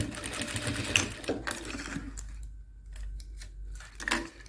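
A sewing machine, set to stitch length 4, stitches the side binding of a pencil-case panel with a zipper. It gives close, rapid mechanical chatter for about two seconds, then short bursts and pauses with light handling noises.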